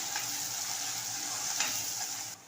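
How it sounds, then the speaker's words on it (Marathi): Onion and tomato stir-fried over high heat in a pan, a steady, faint sizzle with a few sharp spatters and a scrape near the end, no talk. "मोठ्या आचेवरती आता आपल्याला इथे तीस सेकंद तरी चांगलं परतवत राहायचं आहे जोपर्यंत कांदा आणि टोमॅटो मऊ होत नाही"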